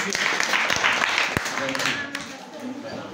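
A primary-school class at a quiz contest claps for a classmate, a lively burst of many small hands that tapers off, mixed with children's voices.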